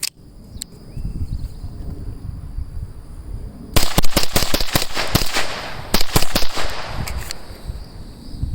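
Rapid fire from an FN 502 Tactical pistol starts midway, a loud, fast string of sharp shots, pauses briefly, then fires another quick burst, over outdoor background noise.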